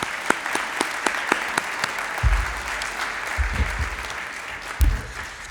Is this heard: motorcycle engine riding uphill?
no